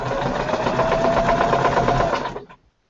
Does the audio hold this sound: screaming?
no